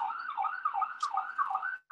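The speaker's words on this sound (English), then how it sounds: "I hear the ambulances" Ambulance sirens wail outside in a steady rising-and-falling pattern, heard faintly from a distance with no talking over them.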